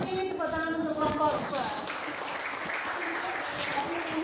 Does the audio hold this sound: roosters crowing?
no